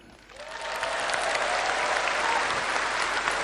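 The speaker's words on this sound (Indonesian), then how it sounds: "Tepuk tangannya kurang semangat" A crowd at an Indonesian political talk show event breaks into applause that swells within the first half second and then holds as a thick, sustained wash of clapping, with no talking over it.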